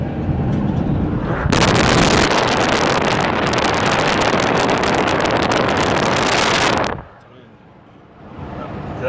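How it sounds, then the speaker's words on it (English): Heavy wind buffets the microphone during a drive through the Gila Forest in a loud, roaring rush for several seconds, then suddenly drops away to quieter background. "Sound windy?"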